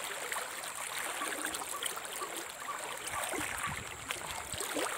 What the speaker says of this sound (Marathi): पाण्याला होड खूप आहे, वेग खूप आहे याच्यात.